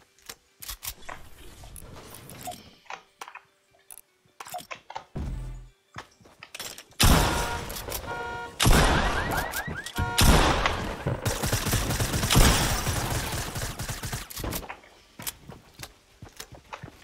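Fortnite gunfire crackles in bursts, with scattered shots early, then dense, loud sustained volleys and rapid fire filling the latter half, mixed with game movement sounds.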